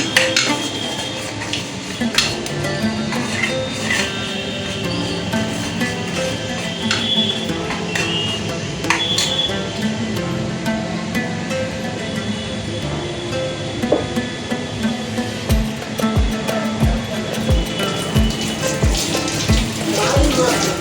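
Green masala paste for matki usal sizzles in oil with onion and tomato, metal spoon clinks and scrapes against the pan, and sputtering frying noise continues throughout, joined by soft background voices.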